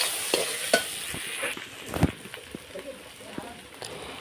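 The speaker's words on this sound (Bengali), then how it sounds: "মিট মশলা দিয়ে আমি আরেকটু মাংসটাকে ভেজে নেব।" Goat meat fries with meat masala in a pan, a soft continuous sizzle broken by scraping stirs and a few sharper clatters, with a voice talking over it.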